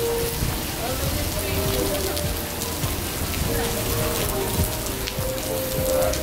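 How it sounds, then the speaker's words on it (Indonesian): Rain falls steadily outdoors at Vivo Mall in Singapore, a dense even hiss of drops on hard surfaces with faint background voices and noise mixed in. "Hujan, everyday hujan"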